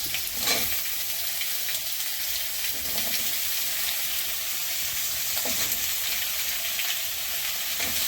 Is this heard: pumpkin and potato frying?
yes